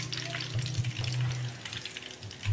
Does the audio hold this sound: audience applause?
no